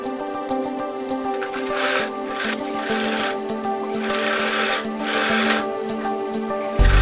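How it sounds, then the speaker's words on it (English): A sewing machine stitches a fabric face mask in close, rhythmic bursts of rapid needle clatter, broken by short pauses as the fabric is repositioned. "you are going to stitch from this point to that point by half of an inch"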